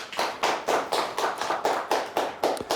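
Audience clapping for a quiz team at a televised quiz show, heard as a steady, evenly spaced run of about nine sharp claps over nearly three seconds, fairly close and with no talking.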